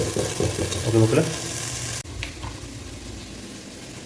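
Ingredients sautéing in a pan, a close steady sizzle with some stirring, partly under a short spoken phrase early on, then continuing more softly after a brief cut.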